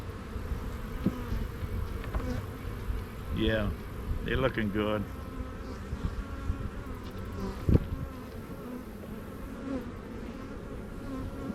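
Honey bees buzzing around a hive, a continuous close drone with a few louder passing bees, while someone talks briefly over it.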